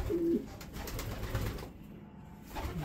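A racing pigeon, a two-year racer that took first place in a 500 km race, gives a short low coo near the start, then the rest is soft ambient noise with no talking.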